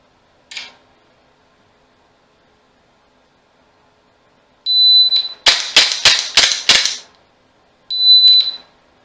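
Coolfire dry-fire trainer firing a string of five sharp, rapid shots in close succession, loud and near, bracketed by brief electronic beeps before and after, with no talking.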